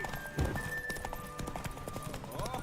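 Horse hooves clip-clop rapidly in a steady galloping rhythm in The Witcher 3, close and moderately loud, mixed with game ambience and a tonal hum throughout.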